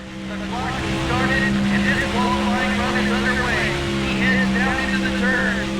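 Race car engine from the NASCAR Thunder 2004 video game, qualifying at Kansas, drones steadily and loudly throughout with a sustained hum and shifting higher whine, while someone talks over it.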